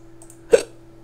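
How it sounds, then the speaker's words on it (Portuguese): A single short hiccup, close and fairly loud, sounding once midway through an otherwise quiet stretch with a low steady hum, during DayZ play. "Soluço."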